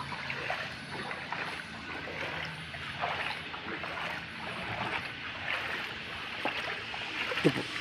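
Water pours and trickles steadily across a rooftop being flooded for a waterproofing leak test, a soft continuous splashing with faint talk in the background.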